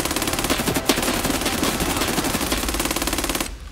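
Sustained automatic gunfire rattles without a break in the tactical shooter Escape From Tarkov, a loud rapid stream of shots lasting about three and a half seconds before cutting off abruptly.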